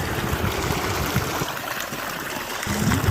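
Water pump motor running on test with water gushing steadily, a continuous broadband rushing flow at close range that holds level throughout, with no talk.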